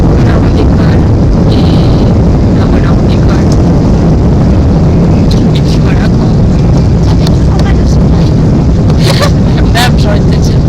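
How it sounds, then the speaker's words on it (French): Airplane cabin during takeoff on a flight to Venice: a loud, steady roar of engines and rushing air fills the whole stretch, with muffled cabin sounds faintly over it. "Voilà, on décolle et du coup direction Venise."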